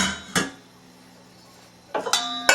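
Dishes and cutlery being unloaded from a dishwasher, with two bursts of clinking ceramic and metal, one brief clatter early and a longer rattling cluster near the end, separated by a quiet pause.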